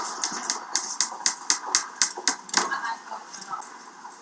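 Repeated hammer strikes land in a steady beat against a low rumbling construction-site bed, near and punchy, then give way to looser knocks and background site noise.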